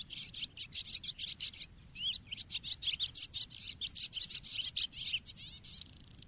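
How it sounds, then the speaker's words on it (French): A swallow twitters in a continuous stream of rapid chirps and trills for several seconds over a faint, low, rumbling background. "ou l'hirondelle qui gazouille"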